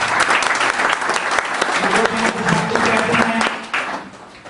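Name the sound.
applause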